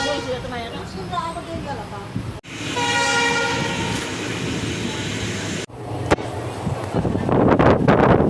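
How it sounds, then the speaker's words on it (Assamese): A running train rumbles close by as its horn sounds in a long sustained blast, with clattering wheels and people talking over the noise. "তো উঠি ল'লো ট্ৰেইনৰ ভিতৰত।"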